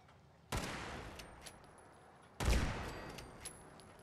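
Two heavy gunshot bursts erupt in Fallout 4, each a sudden loud blast with a long rumbling decay, spaced about two seconds apart, with no talk.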